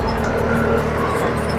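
A 200cc off-road UTV jeep drives with a steady, continuous engine drone and low rumble, fairly loud and close throughout.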